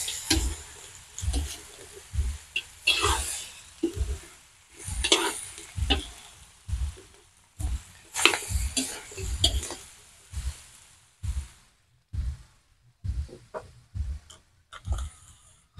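Meat for kaldereta sizzles and crackles in a pan while being stirred, with rhythmic scraping strokes repeating steadily, fairly close and quiet, without talking.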